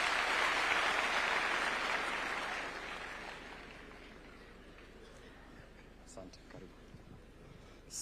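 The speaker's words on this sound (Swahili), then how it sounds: "Wacha tumkaribishe na makofi." Audience applause welcoming a guest at a State House gathering of village elders in Kenya, loud and dense at first, then fading over several seconds to scattered claps.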